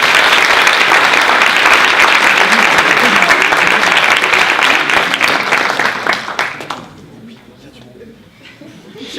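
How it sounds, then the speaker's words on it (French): A large audience gives loud, sustained applause for a finalist being introduced at a French speaking contest, clapping thick for about six seconds before tapering off into near quiet. "je voudrais beaucoup d'applaudissements pour Monsieur Alexandre Carrière"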